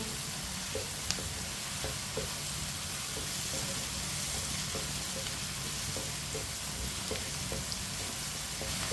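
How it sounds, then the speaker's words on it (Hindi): Chopped capsicum (shimla mirch) cooking in a pan for a vegetable curry: a steady, even sizzle with faint ticks and pops throughout, close and continuous, no voices. "अब देखें, शिमला मिर्च डाल लेंगे। शिमला मिर्च को भी 1 मिनट के लिए पका लेंगे।"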